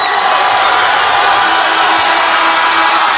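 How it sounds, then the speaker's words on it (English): Crowd cheering and applauding at a Division III high school basketball game between Chillicothe and Jackson, a loud continuous roar of fans with whoops, filling the whole stretch without pause. "They'll get a deserved round of applause"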